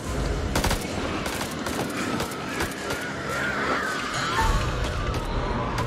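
Video game gunfire in House of Ashes: dense, sustained bursts of rapid shots fill the whole stretch, loud and close, with chaotic battle noise layered underneath.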